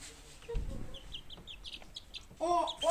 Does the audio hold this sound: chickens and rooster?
yes